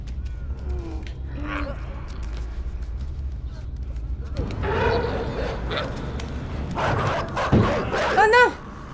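In the video game Inside, dogs bark and yip amid tense game sounds, with a sharp burst of barking near the end while someone talks excitedly over them.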